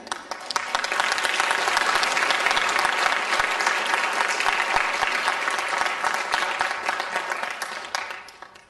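Sustained applause from a seated crowd at a Canadian citizenship ceremony, a dense roar of many hands clapping that swells and then tapers off near the end.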